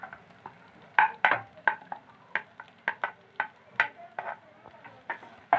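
Chopped onions fry with garlic in a pan for pizza sauce. Regular scraping stirs of a spoon sound over a soft, continuous sizzle, with no talking.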